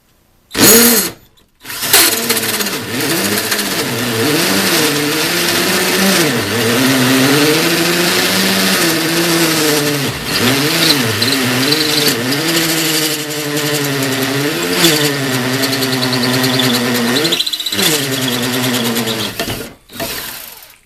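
A Harbor Freight 18-volt cordless 1/2-inch hammer drill whines loudly and steadily for nearly twenty seconds while drilling a hole, its motor pitch dipping and rising under load, after a short start-up burst.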